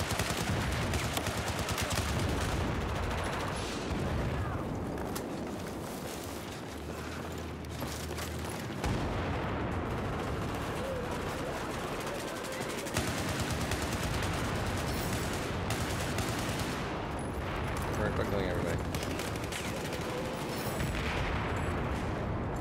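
RPK machine gun fire in Battlefield 4, bursts of rapid automatic shots mixed with distant battlefield gunfire and explosions, dense and loud throughout with brief lulls.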